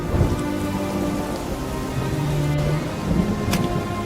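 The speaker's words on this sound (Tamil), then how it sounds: "இந்த மழை நம்ம வாழ்வாதாரமே" Steady rain pattering on a surface with low rumbles of thunder beneath, a continuous, fairly loud downpour in the countryside over farmland.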